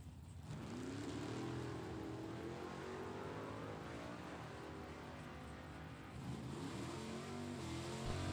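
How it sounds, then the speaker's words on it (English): Drag racing cars, a Chevrolet Camaro and a Nova, accelerate hard down the track with rising engine roar, a loud sustained run that fades slightly before a second surge near the end. "Chevrolet Camaro dialed in at 597. Sam's Nova on a 703."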